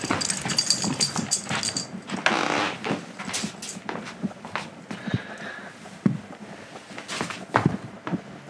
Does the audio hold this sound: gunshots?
no